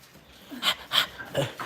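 A dog greeting people up close, giving a few short bursts of panting and snuffling at a steady pace, with no talk over it.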